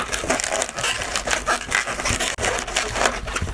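A long 260 modelling balloon is twisted up close, giving a continuous run of rubbery squeaks and rubbing creaks with no talking over it.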